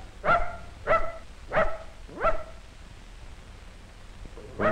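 A dog barks at a snapping turtle outdoors: four sharp, evenly spaced barks close by, then a pause of quiet background before a fifth bark begins at the end.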